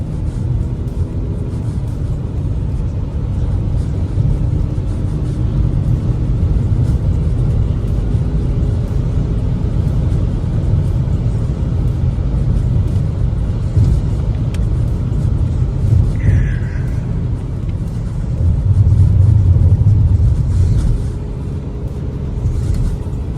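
Steady low engine rumble and road noise from a Volkswagen Passat B7 2.0 TDI with a DSG gearbox moving along at a constant pace, with no voices.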